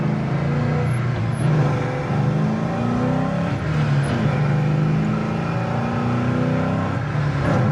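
A 1975 Mercury Comet restomod's engine revving hard and shifting gears around 3,800 RPM, loud and close as the pitch climbs and drops with each shift.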